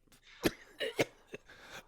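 Several short, harsh coughs burst out in an irregular cluster, close and fairly loud, with brief pauses between them.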